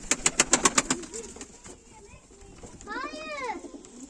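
Young pigeons in a loft, with rapid clicking flutters at first and then soft cooing, while people talk nearby.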